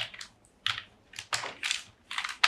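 Python code is typed on a computer keyboard in short, close bursts of crisp key clicks with small pauses between them.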